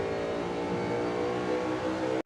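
Onboard sound of a NASCAR Cup Series race car at Phoenix Raceway, engine on throttle with a loud, steady high-revving roar that holds throughout, then a sharp cut as the throttle lifts right at the end.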